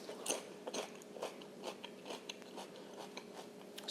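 Repeated crisp bites and crunchy chewing of a fresh, radish-like vegetable, close and quiet, with irregular crunches spread through the whole stretch and no talking.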